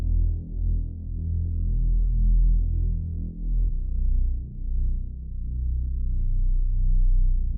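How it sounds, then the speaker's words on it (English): A deep one-shot sub bass sample plays a slow sequence of sustained low notes that follow a guitar's root notes, smooth and throbbing, each note swelling and fading in turn. "It's just a one-shot sub bass by Beats by Luke."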